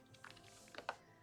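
Typing on a computer keyboard: a few quiet, scattered key taps, close by and alone.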